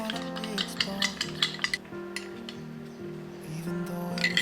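Pepper, chilli flakes, garlic seasoning and parsley being stirred together in a bowl, a run of soft scraping and tapping strokes in uneven rhythm, close and fairly quiet.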